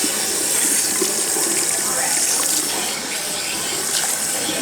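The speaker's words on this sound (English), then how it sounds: "Let's put cool water." Cool water gushes steadily from a salon tap while bleached hair is rinsed, a close, full rushing spray that runs without a break, with a voice faintly audible under it.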